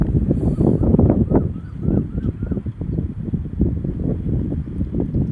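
Strong gusting desert wind buffets the microphone in heavy, rumbling bursts, with faint bird chirps in the distance.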